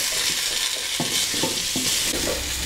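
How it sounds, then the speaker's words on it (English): Flour-coated beef sizzling in a pot for beef bourguignon, a loud, close, steady frying hiss with several short stirring scrapes spaced through it and no talk. "sprinkle in 2 tablespoons of that flour and just cook that through for about a minute."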